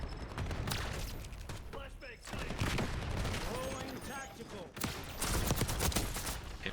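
Rapid bursts of nail gun fire in the shooter Call of Duty: Black Ops 6, loud close volleys repeating in quick stretches with brief gaps, other game gunfire and effects mixed in.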